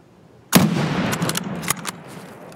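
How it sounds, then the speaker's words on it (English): Gunfire in Escape from Tarkov on the Customs map: a sharp, loud shot hits suddenly, then a ringing tail and a few more distant cracks follow as the shooting carries on. "They're shooting at me"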